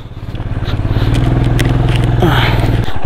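A motorcycle ridden over a rough, broken road in Mizoram, engine throbbing loud and close, briefly rising in pitch with gear work, with rattles and scrapes from the bumpy ground.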